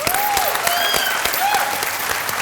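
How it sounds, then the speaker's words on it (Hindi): Studio audience on a Hindi TV reality dance show clapping loudly and densely, a close sustained burst of applause with a few sharp cheers or whistles rising above it. "तालियां"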